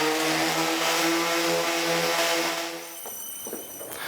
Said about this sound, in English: what I'm using is just a regular 80 grit sandpaper on an orbital sander